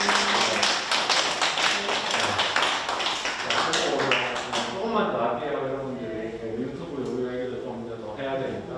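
An audience claps together at a big data lecture held at a county library, a dense burst of applause lasting about five seconds before it fades under a lecturer's voice that carries on talking.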